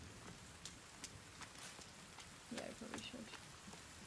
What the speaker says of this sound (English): Oh, we've got rain.